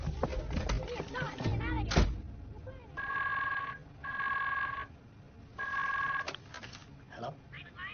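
Telephone bell rings in three steady bursts between bursts of speech, with a dubbed Polish-language film scene and people talking before and after the rings.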